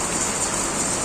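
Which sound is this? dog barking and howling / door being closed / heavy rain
heavy rain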